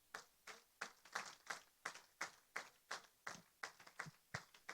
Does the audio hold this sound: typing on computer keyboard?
no